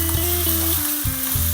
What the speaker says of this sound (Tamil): வெங்காயம் நல்லா பொன்னிறமாக வர்ற வரைக்கும் நல்லா வதக்கணுங்க.